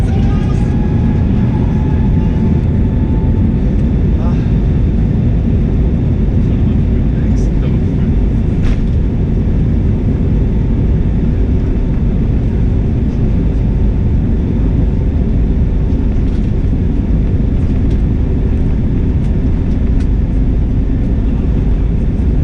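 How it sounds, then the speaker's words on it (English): A Sky Express Airbus A320neo takes off, heard from inside the cabin: a loud, steady roar of engines and rumble fills the whole stretch, with faint tonal whines above it. "now we can take a look at the takeoff of my plane today"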